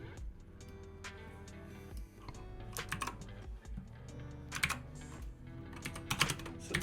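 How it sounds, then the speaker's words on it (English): Someone types on a computer keyboard, with steady close clicking that comes in irregular bursts and some louder key strikes. The clicks are moderately quiet, and no one speaks. "not hitting the keyboard correctly tonight."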